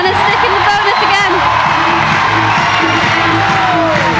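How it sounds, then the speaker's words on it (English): A loud crowd roars, whoops and shouts without pause at a bouldering European Championship semi-final in Innsbruck, while a commentator's voice runs on top of the cheering. "And the crowd are going crazy."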